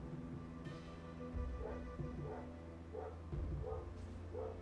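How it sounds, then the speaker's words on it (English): A dog barks off-screen several times in a loose, spaced rhythm over a steady hum of video game music and effects from a Sifu session on a PS5. "Don't know what my dog's barking at."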